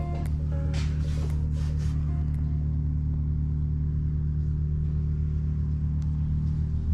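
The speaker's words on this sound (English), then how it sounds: "someone's revving a car" A car engine runs outside with a constant low rumbling drone, heard from a distance and steady throughout, with a few faint higher clatters near the start.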